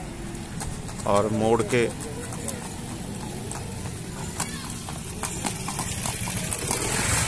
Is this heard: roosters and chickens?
no